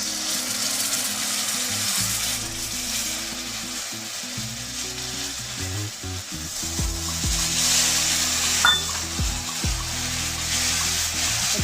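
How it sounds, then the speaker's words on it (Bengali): Yogurt sweetened with a little sugar goes into a pan of frying coriander and cumin for a Bengali doi rui kalia fish curry, giving a loud steady sizzle with scraping stirring strokes throughout, no talking. "এবারে দিয়ে দেবো দইটা, ধনে জিরে দিয়ে দিয়েছি"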